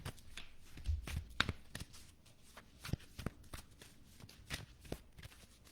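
A deck of animal oracle cards is shuffled by hand in quiet, irregular riffles and soft slaps, close and fairly faint, with a few sharper card snaps.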